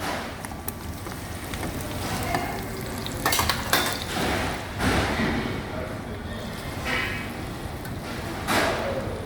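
Hot fat spooned over a rack of lamb, crackling and sizzling steadily in the pan with scraping stirs and a few clinks of utensils, close by and moderately loud, with speech-like sounds in the background.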